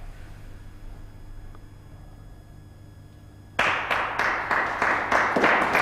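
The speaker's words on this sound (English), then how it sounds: "that was a premature clap" A premature clap from a snooker crowd during the 2005 UK Championship semi-final between Stephen Hendry and Steve Davis: a quiet, humming hall, then a sudden burst of about seven loud, close claps in quick rhythm.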